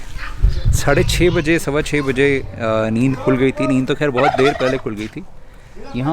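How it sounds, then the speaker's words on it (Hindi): Turkeys and roosters calling in a village at early morning, a few gobbling bursts rising near the start and again at the end beneath continuous close talking. "ये टर्की की आवाज़ थी अभी जो आई थी"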